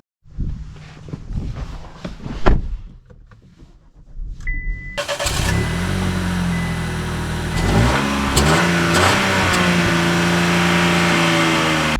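A 2025 Buick Envista engine starts, then settles into a steady, loud hum of driving off with some rising revs. Footsteps and small clicks come first, and no one speaks.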